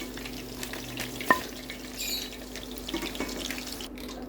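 Chicken pieces deep-frying in oil in a pot for sweet and sour chicken, a steady low bubbling sizzle throughout with a sharp clink of a utensil partway through, close and moderately quiet, with no talking.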